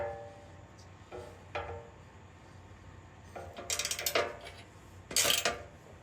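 Ratchet wrench tightening bolts on a Toyota Land Cruiser 250 rear bumper during a Rago Fabrication full-width bumper install, sounding as bursts of close, rapid metallic clicking with the loudest runs near the end, no talking.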